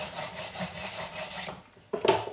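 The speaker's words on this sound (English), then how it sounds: "File it off and sand it." A metal hook bracelet is worked with a file and then sanded, producing steady back-and-forth rasping strokes up close, then a short pause and a few brief scraping scratches.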